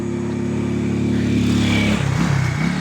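A motorcycle climbs a mountain path, its engine holding a steady mid-pitched drone and then dropping and shifting near the end, fairly close and loud, with no voices.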